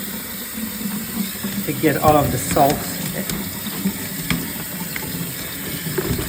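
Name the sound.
cold tap water running over salted Kalamata olives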